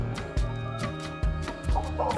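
Chickens and a rooster clucking and squawking close by while being fed in a village yard, several short bursts in an irregular rhythm over a low barnyard background.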